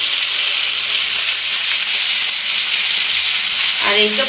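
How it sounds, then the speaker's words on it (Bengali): Raw poultry meat coated in a little turmeric frying in oil, a loud, dense, continuous close sizzle throughout, with a faint brief voice or clatter near the end. "কাঁচাই মাংস ভেজে নিব আর কি।"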